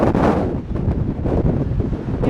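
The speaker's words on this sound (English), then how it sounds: "Holy, it's windy. Nearly been blown off my feet, guys." Strong gusts roar across a seaside promenade on a blustery morning, a continuous loud buffeting rush battering the microphone for the whole stretch.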